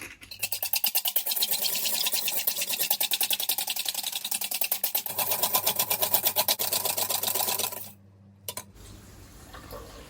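An electric hand mixer whips liquid cream (35% fat) with a spoonful of sugar and a little vanilla into chantilly, giving a steady, loud, rapidly pulsing whir that runs for about eight seconds and then cuts off.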